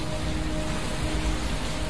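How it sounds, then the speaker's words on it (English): Steady rain pours down in a dense, continuous hiss that stays even and full from start to finish, with no voices or other sounds breaking through. "finally the rain came, and it did not stop."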